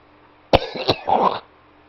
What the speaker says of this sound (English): I'll be coughing and other fucking shit throughout the video